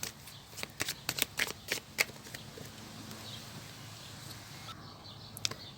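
Tarot cards being drawn and shuffled for a reading, a quick run of crisp flicking and slapping snaps up close, then a few scattered card sounds in a quiet room.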